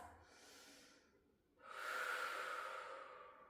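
A slow yoga breath during a gentle hip stretch: a soft, close inhale that fades, a short pause, then a longer and fuller airy exhale, quiet and alone.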